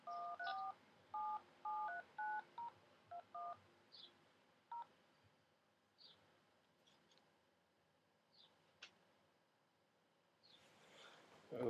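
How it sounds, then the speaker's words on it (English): An iPhone 3G keypad sounds a quick run of about ten clear, short dialing beeps for a phone call, followed by quieter scattered clicks and taps in an otherwise quiet room. "now I'm gonna make a sample phone call for you guys"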